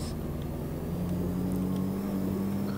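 An overheated Toyota Fortuner engine strains in the video game Euro Truck Simulator 2, giving a steady, close, loud droning hum with no change in pitch or rhythm throughout.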